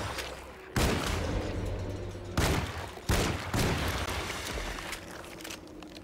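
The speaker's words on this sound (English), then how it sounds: "Shoot the legs! Just like a Resident Evil! I keep missing my shots!" Gunshots fired at a monster in the 2024 Alone in the Dark remake, three loud, booming blasts, the last two close together, each trailing into a heavy rumbling decay.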